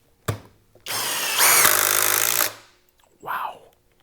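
A cordless impact driver fitted with a star bit drives a fastener, a short tap followed by a loud, sustained hammering buzz that rises in pitch and stops abruptly, then a brief second burst.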